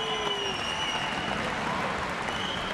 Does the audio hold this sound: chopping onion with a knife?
no